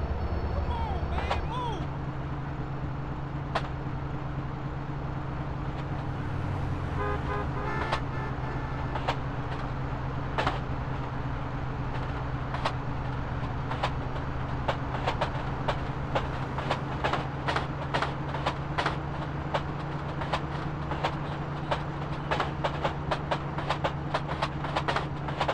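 Train rolling along a track in GTA San Andreas, a steady low rumble of wheels with a series of sharp rhythmic clicks over the rail joints, moderately quiet and continuous.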